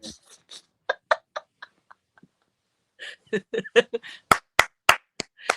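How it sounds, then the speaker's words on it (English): Hand claps, sharp and close: a few scattered soft ones with breathy vocal sounds and chuckles at first, then a run of louder, crisper claps near the end. "gotta put the claps with it"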